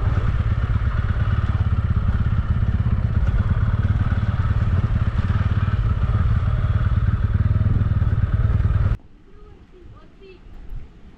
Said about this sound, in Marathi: तिथे बाईक घेऊन जातो, बघू.